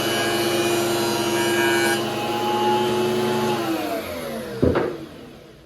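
Wood pieces fed through a woodworking machine in a shop without dust collection, a loud steady machine drone with a broadband cutting roar that winds down near the end, followed by a sharp clatter.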